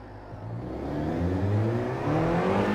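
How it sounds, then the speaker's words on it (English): An Alfa Romeo 4C engine revving up at Monza in GT Sport, a close mid-pitched engine note climbing steadily as the car accelerates, loud and alone. "now we will be driving the Alfa Romeo on none other than Monza"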